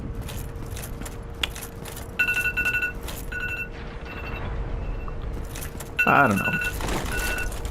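Short electronic beeps sound in two separate bursts, each a steady tone repeated rapidly. They sit over continuous background noise, and a voice speaks briefly.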